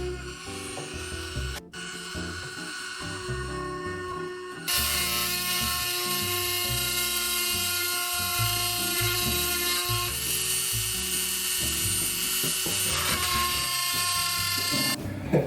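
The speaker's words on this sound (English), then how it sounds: "I'm going to use this flame burr from Kutzall, and I'm going to use it to carve out the hibiscus flower pattern that goes in the center" A Kutzall flame burr on a rotary tool carving a hibiscus flower pattern into wood for a tiki wall sconce plate: a continuous whining buzz with grinding, rasping texture, steady and close, no speech.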